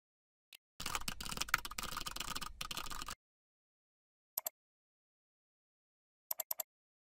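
Quiet computer keyboard typing, a dense run of clicking keystrokes for about two seconds, then a few isolated faint taps after pauses, with no one talking.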